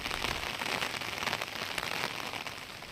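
Heavy rain pours down steadily around a large dam in misty hills, a dense, even hiss of drops on surfaces with no pauses and no voices.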